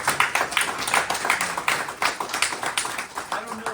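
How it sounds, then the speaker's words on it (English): Scattered clapping from a small group at a city council special called meeting, uneven and close, with a few taps mixed in. "So let's give him a round of applause."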